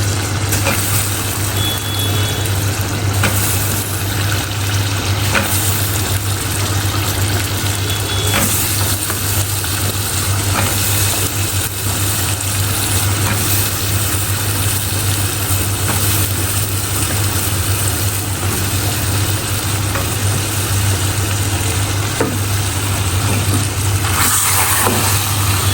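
Diced potatoes tumble into sizzling keema in a hot pan, giving a loud, steady frying hiss with crackle that runs unbroken for the whole stretch, and no voices are heard.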